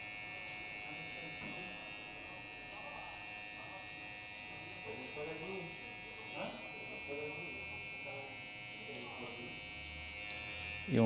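Two electric hair clippers alternate while cutting a mid fade, giving a steady close-up motor buzz that continues throughout with slight shifts as the tools swap, under faint voices.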